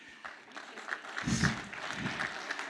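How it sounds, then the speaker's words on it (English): Faint applause from an audience at a firefighter cancer symposium presentation rises briefly in the middle, mixed with scattered voices, then fades. "So, great round of applause for 10-8."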